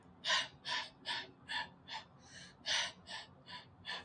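Heavy, forceful breaths in a steady rhythm, roughly ten sharp, loud exhales in four seconds, close up and alone with no talking.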